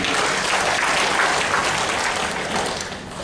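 A seminar audience breaks into steady applause, many hands clapping together, then gradually tapering off.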